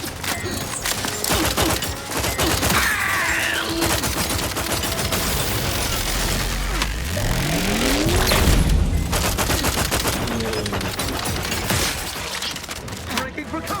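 Dense gunfire rattles through a firefight in the video game The Outer Worlds 2, with rapid overlapping shots and bursts, loud and close, layered with other chaotic game effects throughout.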